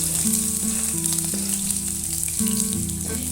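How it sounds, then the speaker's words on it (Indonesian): Shallots and garlic hit hot cooking oil and fry with a loud, continuous sizzle and crackle, close up with no talking. "Jika minyak sudah panas, langsung kita masukkan bawang-bawangnya."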